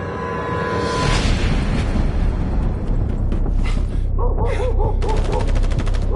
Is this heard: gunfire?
yes